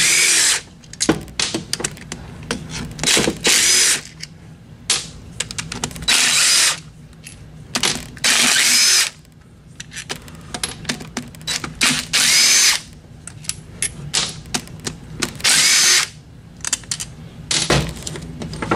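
A power tool with a 10 mm socket whirs in repeated short loud bursts, removing bolts from a tractor transmission during teardown, with brief pauses and clinks between runs.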